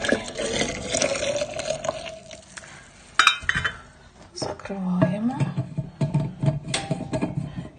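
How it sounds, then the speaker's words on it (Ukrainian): Boiling water is poured into thermoses to scald them, with splashing and filling sounds. Clinks and handling noises sit under a person talking. "От і окріпним спершу ошпарюємо наші термоси"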